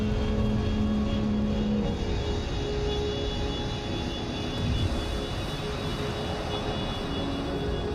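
The Constellation ship's VTOL fans in a space video game give off a steady, loud whooshing hum with low mechanical drone and faint tonal whine, continuous and close, with no talk.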